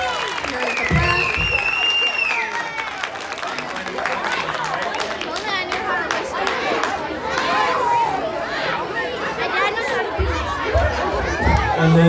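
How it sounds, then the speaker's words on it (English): Applause and crowd chatter fill the room at a school St. Baldrick's fundraiser awards event, a steady murmur of clapping and voices with a person speaking over it throughout. "just a big round of applause for everyone here"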